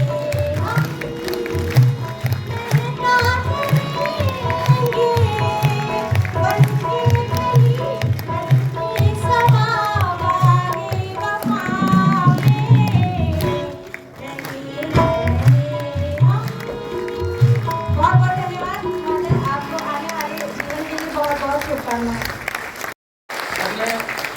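Sustained audience applause fills a farewell ceremony for a senior sugar and cane industry official, a dense steady patter that continues under a voice speaking over it.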